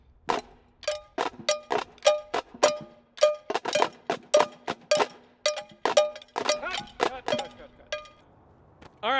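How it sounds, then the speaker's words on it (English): Cowbell struck in a steady, fairly quick rhythm during a band performance, the bright metallic clanks repeating evenly at moderate volume with faint room sound between hits. "I could have used a little more cowbell"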